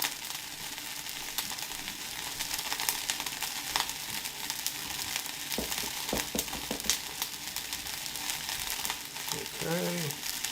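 Al pastor meat fries in a pan: a steady crackling sizzle runs throughout, with a few scraping and stirring knocks near the middle and a short voice near the end.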